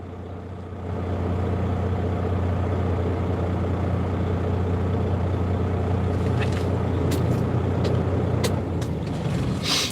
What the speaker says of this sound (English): I'm screaming and hollering because this truck is loud